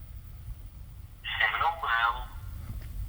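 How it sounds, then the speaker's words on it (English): A hacked smartwatch rings during a call, giving a clear warbling tonal ring in two short bursts over low background hum, with talk heard in the clip. "So the watch is ringing now, so he's actually rung the watch."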